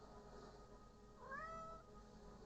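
A single short real cat meow, rising and then falling, fairly clear but faint over a low background hum in a quiet indoor room.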